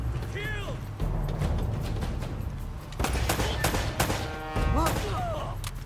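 Rapid bursts of gunfire and sustained fusillades crackle through a firefight in the Uncharted: Drake's Fortune video game, loud and close, with shouted voices breaking in between the volleys.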